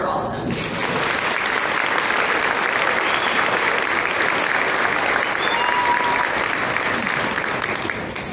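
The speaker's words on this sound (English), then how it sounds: "So a round of applause for all of them, please." Parents in a school auditorium give sustained applause for a fifth grade band at an elementary graduation, a dense, even roar of clapping that swells after a short quieter start and holds steady throughout.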